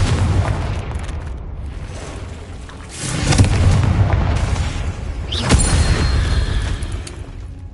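Booming fire-spell blasts from the Confringo spell in Hogwarts Legacy on PS5, with two heavy explosions at about three and five and a half seconds over a loud rumbling battle backdrop.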